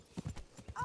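Horse hooves clip-clop in Kingdom Come: Deliverance, a quick run of about six near hoofbeats in an even gallop rhythm, with a short whinny-like tone at the end.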